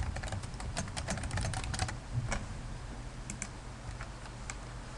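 Rapid typing on a computer keyboard while logging in, a dense run of quiet, close key clicks that pauses briefly and then resumes as scattered taps.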